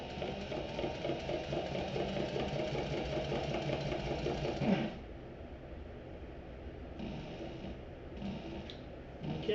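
Sewing machine stitching a straight seam across a backpack, a steady rapid mechanical chatter that runs for several seconds, then stops, leaving quieter intermittent whirs.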